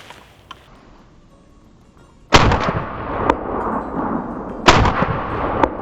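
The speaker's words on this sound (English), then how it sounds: "Shot number 3, load number 2." Two loud, sharp shotgun blasts fired a couple of seconds apart with a reloaded Fiocchi hull, each ringing out briefly outdoors after near silence.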